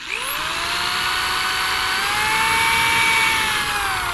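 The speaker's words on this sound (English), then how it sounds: "All right, and we're gonna drill." A power drill spins up, with a whining motor whose pitch rises quickly and then holds steady and loud for several seconds, climbing slightly partway through.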